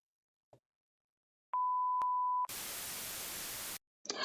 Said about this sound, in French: tout de suite, c'est le répondeur